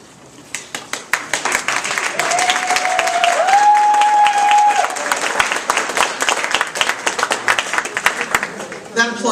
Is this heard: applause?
yes